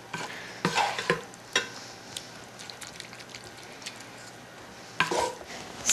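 Vegetables pressed down into a pan of millet, soft scraping and squishing presses in scattered bursts with quiet gaps between, close and moderately quiet, no voices.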